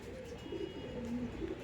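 Low, soft cooing of Andra pigeons repeats in short rounded phrases over a steady murmur of background noise.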